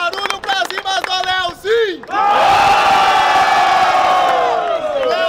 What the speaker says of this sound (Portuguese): Barulho pras rimas do Krauk